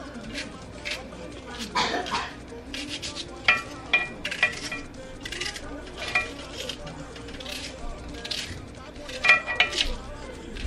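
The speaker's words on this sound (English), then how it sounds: "And I'm going to add some onions." Onions sizzle and squish as a spoon stirs and scrapes around a pot of curry in irregular bursts, with a faint voice talking in the background.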